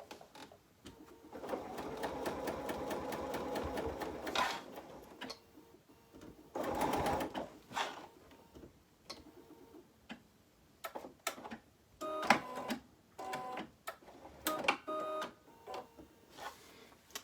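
A sewing machine stitches around the top of an embroidered stocking in rapid ticking runs broken by pauses and short bursts, close and fairly quiet.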